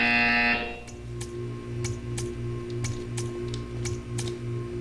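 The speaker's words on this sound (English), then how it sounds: "You will hear a buzzer. When you hear the buzzer, stare at the art." Buzzer in the video game Portal 2, a loud harsh buzz cutting off after half a second, followed by a steady low humming drone with rhythmic pulsing and sharp clicking ticks.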